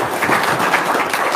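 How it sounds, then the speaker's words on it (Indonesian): Audience applause at a home gathering, steady clapping at moderate loudness lasting briefly without pause. "Tepuk tangan dong."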